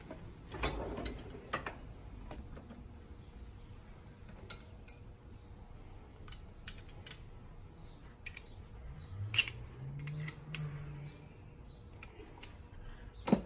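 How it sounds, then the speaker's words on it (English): Small metallic clicks and ratcheting from tightening a nut on a lock mechanism while lockpicking tools are adjusted, scattered taps and a brief grinding sweep, close and fairly quiet. "Let's tighten this nut up and try and see again."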